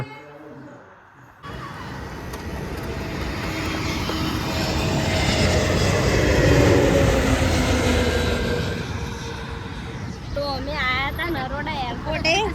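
A loud, broad roar of an aircraft swells as it passes overhead, peaks, then eases off, with voices talking near the end.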